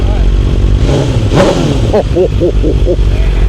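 A 2021 motorcycle with about 3,000 miles, its engine running loud and close and rising in a brief rev, with people talking over it.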